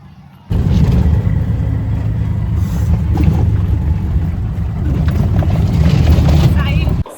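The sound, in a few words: auto-rickshaw arriving to pick up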